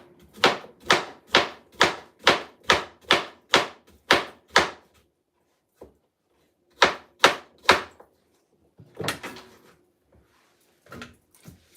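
A knife chops plantain on a board in a steady run of about ten sharp, evenly spaced strokes, then a pause and three more, followed by softer scraping and handling, close and clear without talk.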